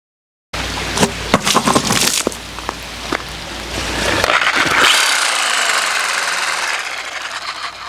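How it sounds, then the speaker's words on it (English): A jigsaw fitted with a 12-tooth wood blade cuts into a tire, starting with a fast, knocking chatter of strokes and then settling into a sustained, rough buzzing cut, close and fairly loud. "That's all it takes is a jigsaw. It's got a wood blade in it, like a 12-tooth wood blade."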